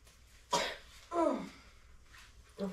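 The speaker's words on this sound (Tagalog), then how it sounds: "tong ubo na to" A small child coughs twice in quick succession, then once more after a pause, close and fairly loud against a quiet room.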